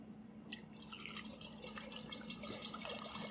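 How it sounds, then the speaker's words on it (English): Home-brew beer wort dribbles from a funnel into a fermenter, a soft continuous trickle with fine splashy drips, faint and steady from start to finish with no talking. "I do not mind that it is dropping like that from the funnel"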